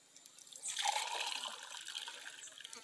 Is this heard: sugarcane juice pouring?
yes